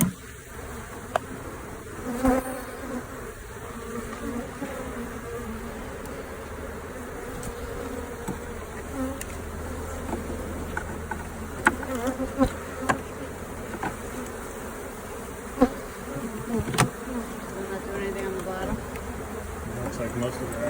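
A swarm of honeybees buzzes steadily around a hive just after smoking, a dense close drone with occasional individual bees passing near, continuous throughout with no talk.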